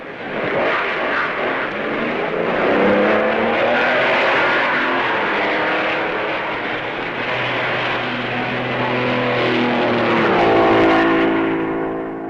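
Race cars at the 1955 Belgian Grand Prix roar past with a loud, sustained engine drone that swells and fades, with no talk over it.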